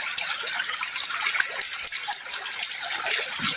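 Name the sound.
flowing river water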